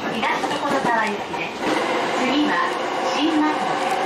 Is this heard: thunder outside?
no